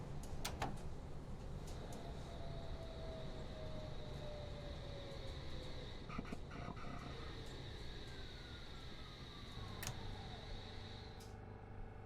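Metropolitan line train running in a train simulator game, with a steady rumbling roll throughout, gliding tonal whines rising and falling, and a few clicks and clunks along the way.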